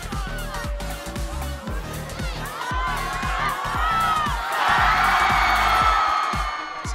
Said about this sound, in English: there's a really good crowd here tonight